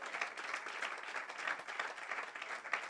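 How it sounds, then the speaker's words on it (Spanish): Steady applause from a church congregation, many hands clapping at once in a dense, continuous patter with no voices on top. "Fuerte, fuerte ese aplauso para Él"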